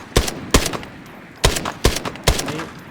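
SCAR-L rifle fire in the shooter game Arena Breakout Infinite: five sharp, loud close gunshots in uneven bursts, a pair, a gap, then three quick shots, with no talking.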